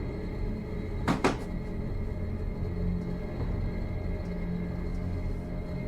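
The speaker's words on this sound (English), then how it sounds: "A door slams shut." A single heavy door bangs shut once near the start, a sharp impact over a low, steady room rumble, followed by quiet ambience.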